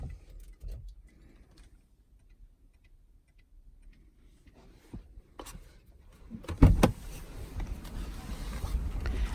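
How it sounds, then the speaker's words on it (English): A 2019 Lexus RX300 is handled in a quiet cabin with a few soft clicks, then its engine starts with a low surge and settles into a steady idle. "Several times we start and turn off the engine."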